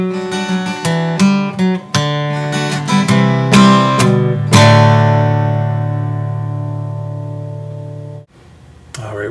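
Guitar plays the closing bars of a song, quick plucked notes slowing into a final strummed chord that rings out and decays slowly, with a brief soft noise at the very end.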